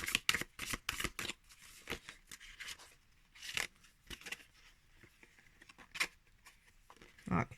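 Close, crisp shuffling of a Pulp Tarot deck, a run of quick papery flicks and slaps spread irregularly across several seconds, with quiet gaps between bursts and no voices.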